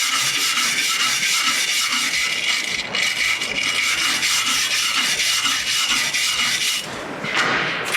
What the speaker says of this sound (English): I'm going to give it a quick hit with a wire brush.